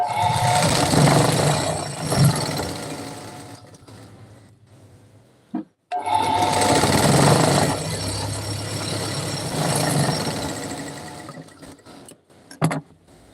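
A sewing machine runs in two long, steady bursts of close mechanical whirring, separated by a short pause, with clicks and handling noises at the stops and no talk.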